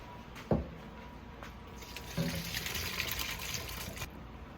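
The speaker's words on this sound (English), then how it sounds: "So all the water mostly out. Oh no, it's called straining." Water from cooked elbow pasta straining out through a strainer, a steady running splash with a sharp knock near the start and a louder rush partway through, close by with no talking.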